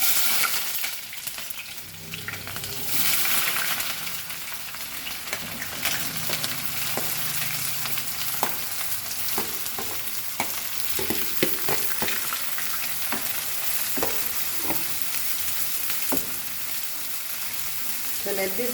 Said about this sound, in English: Now in that same oil I will fry onion and tomatoes.